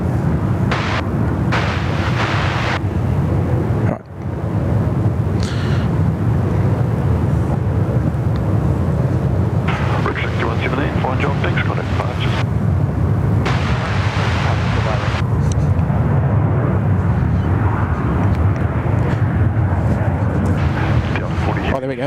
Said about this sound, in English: Just as we watch the Delta 350 head down taxiway Alpha.